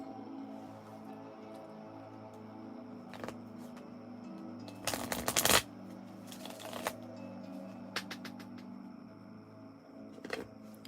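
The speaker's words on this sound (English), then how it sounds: "I'm shuffling your card right now" Tarot cards shuffled by hand at a table during a reading, with a few sharp riffling bursts and scattered soft taps and flicks over a steady low hum, close and fairly quiet, with no talk.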